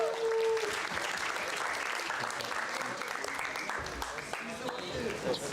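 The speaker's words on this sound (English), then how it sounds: "Please give her a big clap." An audience at a workshop applauds, a dense, steady clatter of many hands clapping, with a voice speaking briefly at the start.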